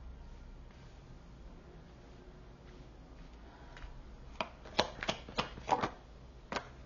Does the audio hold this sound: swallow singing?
no